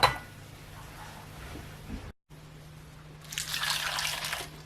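Hot water pours steadily into a container of dried shiitake mushrooms, a rising splashy rush in the last second and a half after a quiet pause.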